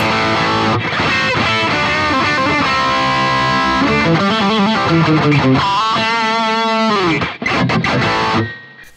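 Electric guitar played through a BOSS GT-1000 processor with the Blues Overdrive engaged, strummed chords and single-note lines carrying a thick, saturated crunch, loud and up front with no voices, ending in a quick fade.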